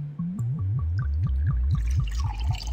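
Tequila pours from a distillery in a settlement survival game as a long run of rhythmic glugging gurgles, about a dozen evenly spaced liquid pulses rising into a splashy trickle, loud and alone.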